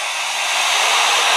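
A vacuum cleaner, switched on by a Bosch wireless accessory, runs with a loud, steady, airy whine that holds level from start to finish.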